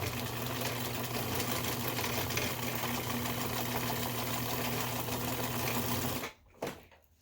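Sewing machine zigzag stitching across the top of a cymbal bag, a quiet, close, steady mechanical hum with rapid needle rattle for about six seconds before it stops and a couple of soft clicks follow.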